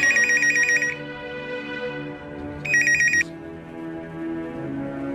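Old landline telephone bell in a 2003 Pakistani television drama rings in two loud bursts separated by a pause, with quiet background sound in between.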